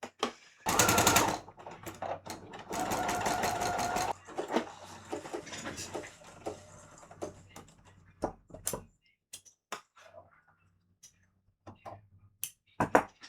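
Sewing machine stitching seams at home, two loud, fast whirring runs of a few seconds each, followed by scattered clicks and handling knocks, close and alone without talk.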